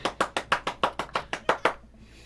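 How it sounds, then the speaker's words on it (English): In the Dream Daddy video game, ten hand claps ring out in a steady, slightly quickening rhythm, crisp and close, then stop abruptly into quiet. "She begins clapping, slow at first, then faster and more vigorously."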